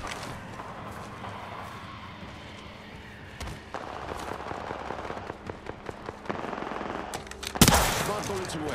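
Ballistic's smart bullets firing in Apex Legends, a rapid run of sharp cracks and pops over a steady game soundscape, building to a loud burst near the end.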